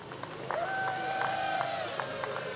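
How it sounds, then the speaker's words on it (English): A crowd roars at the finish of a freeride ski competition in Fieberbrunn, a steady, dense cheer with horn-like tones rising above it for a couple of seconds. "The crowd, they like it."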